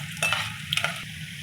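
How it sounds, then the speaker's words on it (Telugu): Dried red chillies, chana dal, urad dal, cumin and mustard seeds fry in hot oil for a tempering, giving a steady close sizzle with brief stirring scrapes and crackles. "ఇది బాగా ఫ్రై అవ్వాలండి."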